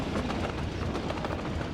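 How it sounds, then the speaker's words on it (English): A steel-laden freight train in the Workers & Resources game trundles along at speed, a dense, loud, continuous rumble with rapid rhythmic clatter of wheels on rails. "Look at the mighty steel train."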